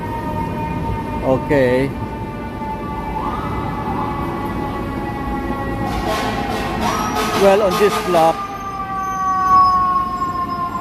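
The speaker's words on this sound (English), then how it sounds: "The siren, you always hear them anywhere." A fire truck siren wails through a busy Midtown Manhattan street in New York City, rising and falling with a sharp horn blast, while someone talks nearby over traffic noise.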